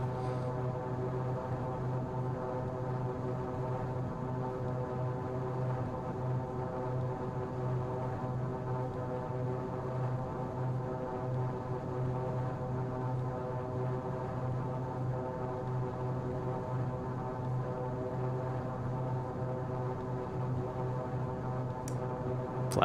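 Steady drone of Metroliner III turboprop engines in a flight simulator, with layered harmonic tones holding constant and loud throughout, and a brief click near the end.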